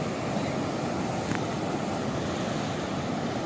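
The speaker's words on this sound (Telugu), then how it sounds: "అవి కనిపించే అలలన్నీ బీచ్లోంచి వస్తున్నాయి" Ocean waves at Goa beach, a continuous broad roar of surf with wind, steady and fairly loud throughout, no speech.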